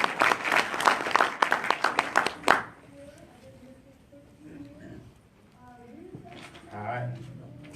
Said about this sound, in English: Would you give her a big round of applause as she comes forward?